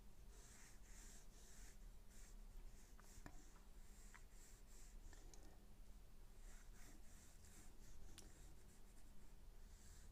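The side of a pencil shades across paper in soft, continuous scratchy strokes, faint and close with no talking.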